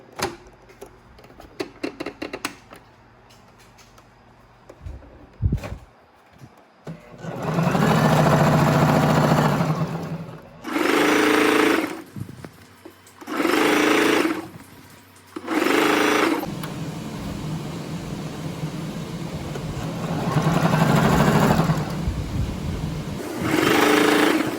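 After some handling clatter, a sewing machine runs gathering stitches on a tweed skirt in loud, close bursts: one long run, several short ones with pauses, then a longer steady stretch.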